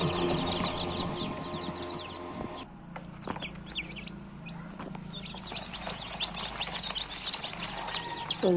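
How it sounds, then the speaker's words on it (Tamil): A brood of 84 newly hatched chicks cheeping in an incubator on a farm, dense overlapping high peeps, some near and loud, with brief mechanical hum early on. "84 சிக்கு பொறிச்சிருக்கு."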